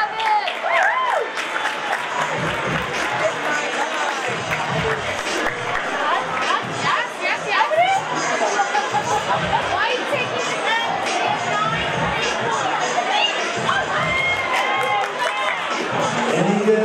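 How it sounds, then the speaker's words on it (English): An audience at a graduation fashion show fundraiser claps and cheers steadily, a dense crowd sound with shouts and chatter mixed in, and voices talking over the applause throughout. "Give him a round of applause."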